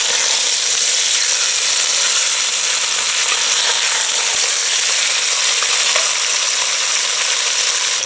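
Chicken pieces fry in a pan for chicken and rice soup, giving a steady, loud, close sizzle with crackling that holds unbroken throughout, no talking.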